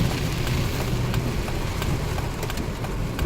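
Steady heavy rain pours during a thunderstorm, a dense, constant hiss with scattered louder drops and no clear thunder clap, heard without talk.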